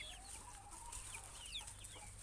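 Chickens give faint, soft clucks and chirps while they feed, over a steady low background hum.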